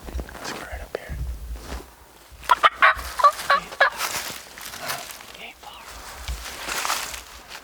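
Wild turkey gobbler answering a caller, heard through dense woods at midday: a few short bursts of gobbling well off in the distance, with soft whispering and footsteps from people nearby.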